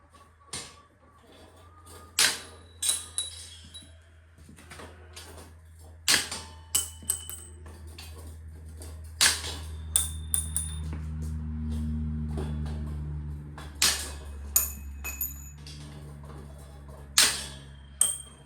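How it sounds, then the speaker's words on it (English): Bolt cutters snip through pieces in a DIY feed project, giving sharp, irregular clicks and snaps spread over the clip against a low steady hum and some faint rattling. "just take these bolt cutters and snip these things off."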